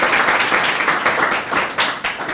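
A hall audience applauds for Shah Sahib at an engineering career talk, with dense, steady clapping that stays loud and continuous throughout.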